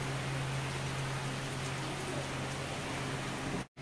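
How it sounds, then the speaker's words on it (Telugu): Steady rain patters and runs off tin roof sheets in a village during a thunderstorm, a continuous even hiss with a low hum beneath, cutting out abruptly near the end. "ఆ రేకుల మీద నుంచి జారి కారిపోతుంది అనమాట వర్షం"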